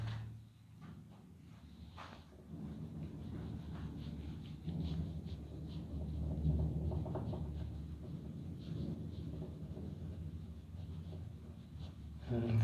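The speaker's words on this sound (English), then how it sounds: "finally now it has started raining after so much of thunder and lightning" Thunder rolls and rumbles at low, muffled volume, heard from indoors over a long, uneven stretch with faint rain and scattered knocks beneath it, and no clear talk.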